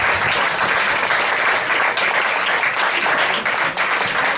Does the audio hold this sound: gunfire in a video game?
no